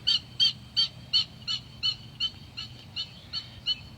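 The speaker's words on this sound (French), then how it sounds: "Les oiseaux, les oiseaux. Ils s'appellent, hein." Birds call in rice fields in Isan, Thailand, in August: a rapid, regular series of about a dozen sharp, harsh notes, fairly close and clear over quiet rural background.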